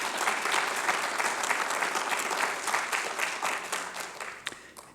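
An audience at a 2018 alumni awards ceremony applauds Wilbur Lettinger with steady, dense clapping. The applause is moderately loud and even, then thins slightly near the end.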